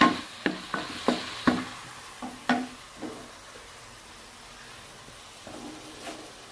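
Chopped tomatoes sizzle and hiss in a pan of spicy mashed turnip, with a series of sharp spoon knocks and stirring scrapes at the start that thin out into a soft steady frying hiss.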